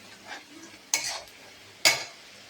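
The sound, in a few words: onion frying and being stirred in a pan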